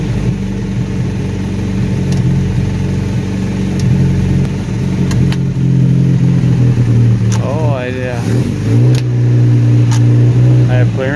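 A 1975 Chevy LUV engine runs for the first time in years, idling roughly and loudly up close, rising in a couple of revs toward the end while people talk over it.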